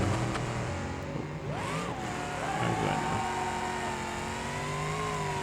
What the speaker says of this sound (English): Ooh, motor blew up.